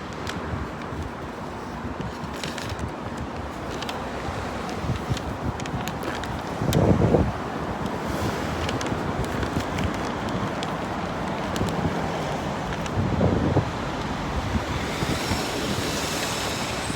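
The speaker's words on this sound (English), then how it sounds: "It's a little bit windy." Wind on Ann Street in Brisbane, near the Shrine of Remembrance, roars and buffets the microphone steadily, with two louder gusts rumbling through, under a continuous surf-like wash of noise.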